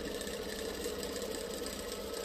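A sewing machine runs continuously while stitching quilt blocks for a Trip Around the World quilt. Its motor whirs in a dense, steady drone that stays close and loud with no talking.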